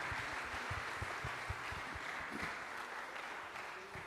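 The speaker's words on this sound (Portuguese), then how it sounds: "Aplauda o Senhor." A church congregation claps steadily and continuously during a Portuguese-language family worship service, a dense, even roar of many hands filling the room with a few louder individual claps standing out.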